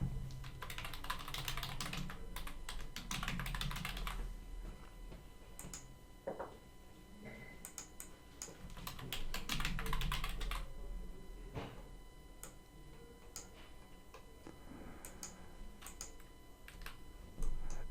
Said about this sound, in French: je vais à nouveau taper la touche Entrée